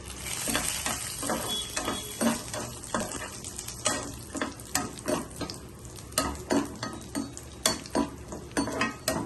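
Cashews and raisins frying in ghee over a low flame, a soft constant sizzle punctuated by regular clinks and scrapes of a spoon against the pan, near and with no speech.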